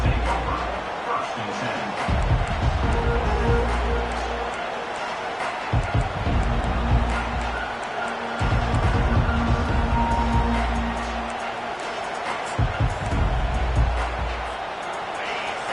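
A stadium crowd roars steadily through a college football game between Georgia and Alabama, the loud, continuous din swelling in waves beneath a commentator talking over it.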